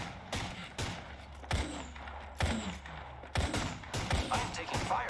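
Sharp gunshots crack in irregular bursts during an Apex Legends ranked match, several loud close reports mixed with thuds and mechanical clicks, with faint talk in the background.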